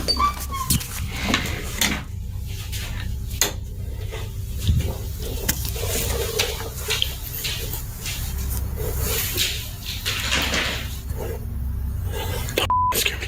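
A scared dog whimpers and whines in short, irregular bursts amid faint household knocks and a brief electronic beep near the end, fairly close, mostly alone with little talking.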